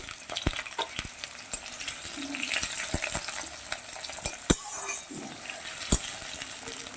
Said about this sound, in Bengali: আলুটা খুব ভালো করে ভেজে নেব